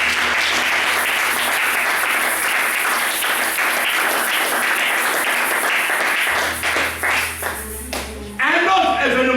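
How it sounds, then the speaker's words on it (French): A church congregation applauds during a French-language sermon, with dense, sustained clapping that stays loud for most of the stretch, then thins briefly into scattered claps before swelling again. "Qui peut acclamer le roi de Dieu?"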